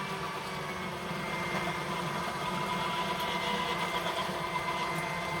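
An old electric hand mixer whirring steadily at speed 2 as it beats eggs and flour into waffle batter, a continuous close motor drone with slight rattling and no talk.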